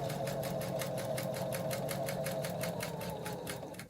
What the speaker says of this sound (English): So I sew all the way around